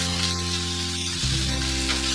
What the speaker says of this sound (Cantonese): 而家呢，就可以倒啲乾葱頭粒、蒜頭粒同埋薑片落去鑊度煎下佢